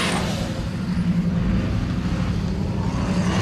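4x4 trials truck powered by a Lexus V8 engine at an off-road trials event in Feilding, a deep, steady, rumbling engine note held loud and close throughout, with no talk.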